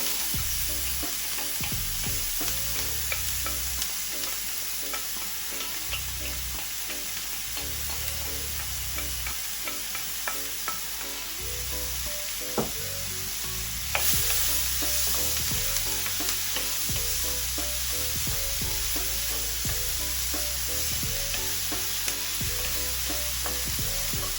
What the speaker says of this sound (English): in the same pot, I'm gonna saute my seasoning